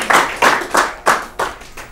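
Audience clapping for a contestant on an Urdu-language literary quiz programme, six loud, evenly spaced claps in quick succession, close and crisp with no voices.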